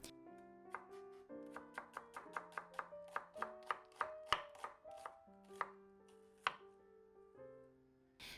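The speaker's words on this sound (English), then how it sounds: "First, let's start by slicing the onion." A knife slices thinly through an onion on a cutting board, making a quick, even run of crisp taps that speeds up in the middle, then slows to a few spaced cuts over soft background music.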